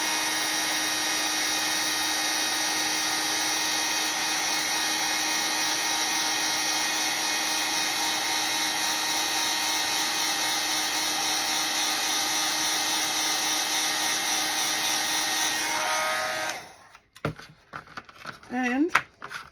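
A heat gun warms broken WoodUbend mouldings with a loud, steady, close blowing whir lasting about sixteen seconds, then it cuts off and a voice briefly speaks.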